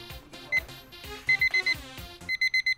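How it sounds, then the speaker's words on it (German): An alarm clock rings in loud, repeated beeping bursts, first scattered among other musical sounds and then as a steady run of four evenly spaced beeps near the end. "Das ist ein Wecker eigentlich"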